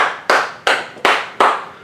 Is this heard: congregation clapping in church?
yes